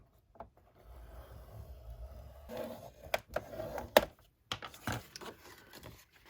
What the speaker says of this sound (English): I'm going to score it now at 4 1/4